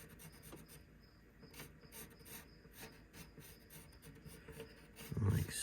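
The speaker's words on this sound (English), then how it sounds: "And I'm gonna have to now trim some of these edges here." Edges of a storage panel for a Ford Transit van are trimmed with a tool, producing faint repeated rasping and rubbing strokes in an uneven rhythm that end in a louder bump.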